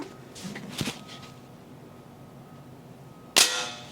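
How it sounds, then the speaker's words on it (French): An Umarex lever-action air rifle fires one sharp, loud crack near the end, close to the microphone. Earlier there are quieter mechanical clicks and handling noises, and no one speaks. "Et je tire."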